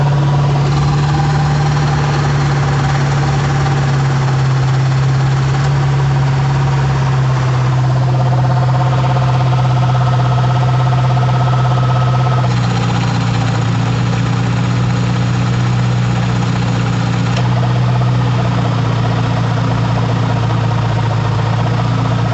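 A 2005 Ford F-150 engine idles steadily with a noisy A/C compressor pulley, producing a constant loud drone and hum that shifts slightly in pitch partway through, with no talking.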